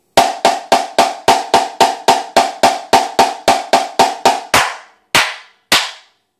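A Yamaha marching snare drum struck with tape-wrapped Pro-Mark sticks: a fast, even series of about fifteen loud, crisp single strokes, then a short pause and two final separate hits, played alone.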